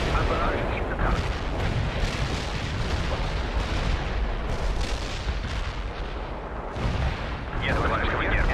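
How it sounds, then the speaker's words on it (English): Rolling artillery barrage explosions in the World in Conflict strategy game, continuous heavy booms and rumbling blasts overlapping one after another, dense and loud throughout with distant-sounding impacts layered together. "Enemy is launching a barrage."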